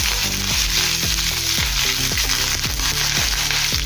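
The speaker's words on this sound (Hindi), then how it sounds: "इसमें हम राई डालेंगे 1 चम्मच। हरी मिर्च डाल देंगे, कड़ी पत्ता डालेंगे" Mustard seeds, green chillies and curry leaves sizzle steadily in hot oil, a loud, constant frying hiss with a few clinks of a utensil against the pan.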